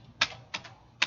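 Three separate computer keyboard keystrokes, crisp, close clicks spaced a third of a second apart, entering a TR trim command and pressing enter in a drafting program, with no voice.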